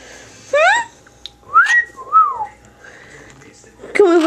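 A pet bird gives a series of short whistles, rising and falling glides, then a pause and a final whistle, close and clear in a quiet room.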